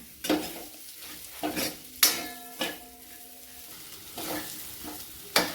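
Red chilli powder and masala are stirred into vegetables and capsicum frying in a pan, with repeated spoon knocks and scrapes against the vessel every second or so over a low sizzle, close up.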